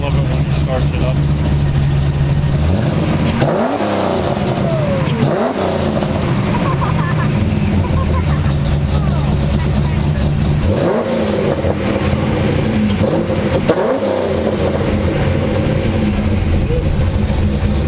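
A custom car's engine idles loudly and revs repeatedly in a series of rising and falling surges, rumbling steadily nearby throughout.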